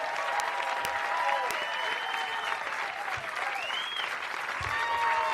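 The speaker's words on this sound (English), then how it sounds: "Round of applause for him." Audience applause for comedian Gerry Dee after his stand-up set at a live comedy show, steady dense clapping from a large crowd throughout, close and full, with faint voices mixed in.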